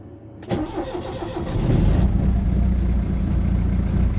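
A diesel vehicle engine with a faulty glow plug cranks briefly, then catches and settles into a steady low idle, close and loud, with no talking.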